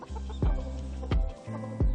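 A farmyard rooster clucks near hens: three close, short, throaty calls with brief pauses between them, loud and clear, with no human voices.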